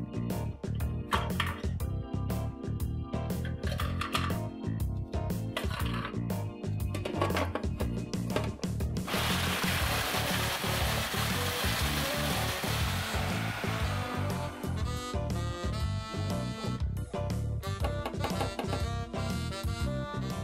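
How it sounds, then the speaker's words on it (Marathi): A mixer grinder crushes Parle-G glucose biscuits into crumbs, with loud continuous whirring and rattling broken by short pulses, then a sustained smoother grinding run before more bursts. "ते आपल्याला आता मिक्सरमधनं क्रश करून काढायचे आहेत."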